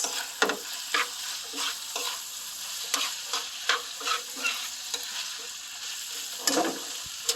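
Ox kidneys mixed with coriander leaves and herbs in a hot pan, a rhythmic run of spatula scrapes and stirs over a constant frying sizzle, close and clear, no speech.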